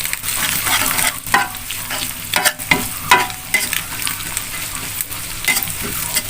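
Chili frying in a hot pan crackles and sizzles loudly, broken by repeated clattering strokes of a spatula stirring at an uneven rhythm, with no talking.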